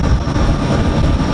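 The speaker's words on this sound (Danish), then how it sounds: "får politikerne en tur med et Challenger-fly" Steady, loud engine roar heard from inside a Challenger aircraft flying a maritime environmental surveillance flight, a continuous low droning hum with no breaks.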